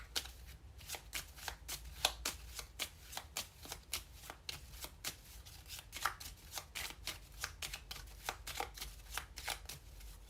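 Lenormand fortune-telling cards are shuffled in a quick, steady riffle, with soft rhythmic flicks repeating close by and no talking.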